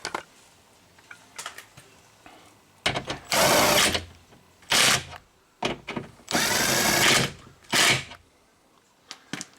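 A cordless power drill runs in several short, loud bursts while tightening screws inside a Subaru door at the power window, with quiet handling noises in the gaps between.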